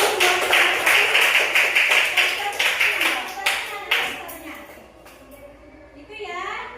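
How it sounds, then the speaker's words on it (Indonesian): A classroom of students claps together in quick, regular rhythmic bursts, crisp and close, then the clapping dies away and a voice speaks. "beri tepuk tangan dua dulu"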